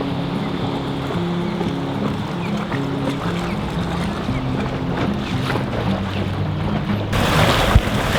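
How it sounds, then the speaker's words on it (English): A dinghy motors over open water, its outboard droning steadily under rushing wind and splashing waves, close and continuous, growing a little louder toward the end. "we're gonna go for a nice long dinghy ride this afternoon"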